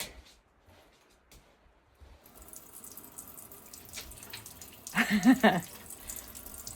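Water from an off-grid tap fed by a pipe running under the house and up through the floor, starting as a low trickle and then briefly gushing louder, alone with no talk.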